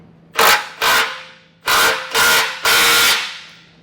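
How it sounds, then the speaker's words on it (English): A ratchet turning a 3/4 inch socket on a swivel to tighten a bolt on a 2024 Ford Escape base plate gives five loud, close, rasping bursts, each stroke lasting under half a second with brief pauses between. "I come back with a 3/4 inch socket now, and I have it on a swivel too, just to make it easier to reach that bolt"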